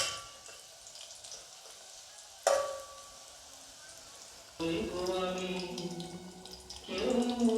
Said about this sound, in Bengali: এই মাংসর আলু ভাজতে দিয়ে দিয়েছি